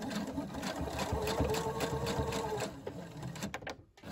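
A sewing machine stitches a fabric face mask in a steady, close, continuous run for nearly three seconds, then slows and stops, with faint handling noises after.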